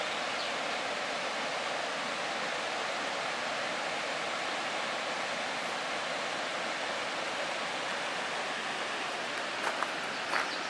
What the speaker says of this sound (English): can you hear the waterfalls?